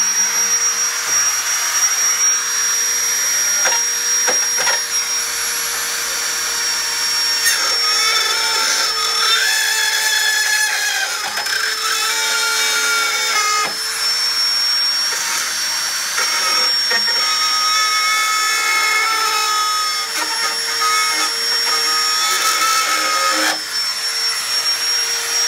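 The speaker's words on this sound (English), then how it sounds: "So this is the rototiller." A rototiller's small engine drones steadily at high pitch, its tone wavering and surging now and then as it runs without pause.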